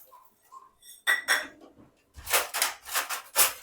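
Sesame seeds, peanuts and chana dal dry-roasted in a pan: a faint whistle-like tone, then several close, rasping bursts of the seeds being scraped and tossed.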